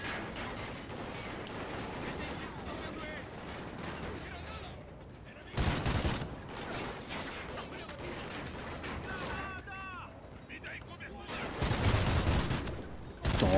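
Dense gunfire from the Call of Duty Ghosts video game, rapid automatic bursts and shots coming from many directions, loud and almost continuous, with heavier volleys near the middle and end.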